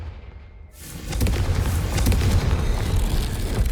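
A Confringo spell bursts in the Hogwarts Legacy video game, a loud deep boom that swells suddenly and then rumbles on as a sustained roaring blast.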